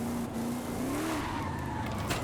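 A car drifting in the video game Forza Horizon 5, its engine droning steadily while tires squeal with a rising, wavering pitch throughout, loud and close.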